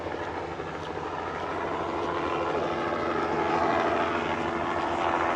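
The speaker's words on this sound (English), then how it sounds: "There's the helicopter." A helicopter's engine drones steadily overhead, growing slightly louder and closer as it passes low, leaving Green Island on the Great Barrier Reef near Cairns.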